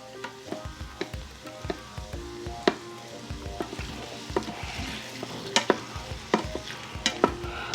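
Butter sizzling and frying in a pan with cooking onions, with a steady crackling hiss and repeated stirring scrapes throughout, close and moderately loud with no talk.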